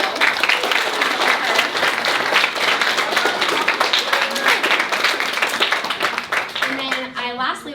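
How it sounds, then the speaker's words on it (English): An audience at a volleyball commitment night claps steadily, a dense roar of many hands held for several seconds before fading, with a voice coming in over the tail. "All of y'all need to clap and say thank you for this awesome venue"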